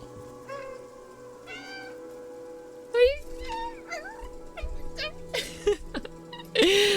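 A cat meows repeatedly in the video game Stray, a series of short, clear cries spaced across the scene, with a brief scuffle of movement and a louder burst near the end.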